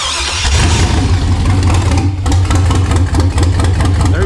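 A carbureted LS V8 on a stock factory PCM cranks and fires, then settles into a loud, steady idle close by with a deep rumbling throb. No one speaks over it.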